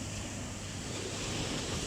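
Steady wash of ocean surf at Padang beach, a constant broadband roar with some wind noise, fairly faint and without voices.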